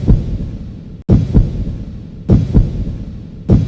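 A heavy, booming heartbeat sound effect from the Pokémon anime thumps in repeated double beats at a steady, tense pace, loud and close with no talking.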